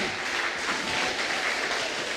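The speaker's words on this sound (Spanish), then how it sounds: "Un aplauso para Cristo." A church congregation applauds steadily for the whole stretch, a dense, even wash of many hands clapping at a moderate distance and without pauses.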